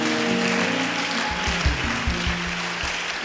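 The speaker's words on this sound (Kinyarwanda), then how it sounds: "Tugukomeye amashyi menshi kandi tukuvugije umuntu." A church congregation applauds together, a dense, steady wash of clapping that fills the whole clip, with low thuds and a faint musical tone running beneath.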